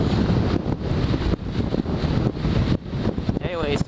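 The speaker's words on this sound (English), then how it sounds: "I forgot how windy it was here." Strong wind gusts buffet the microphone outdoors along a biking route, a loud, continuous rumbling roar that swells and dips with each gust.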